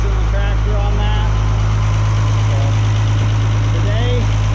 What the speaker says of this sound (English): we'll be running a Ford TW-5